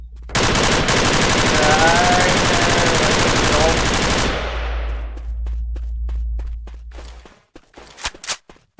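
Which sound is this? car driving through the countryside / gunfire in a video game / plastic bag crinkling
gunfire in a video game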